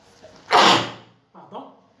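A single loud, close sneeze bursts out during a French lesson on formatting a Word document, followed by a brief softer vocal sound.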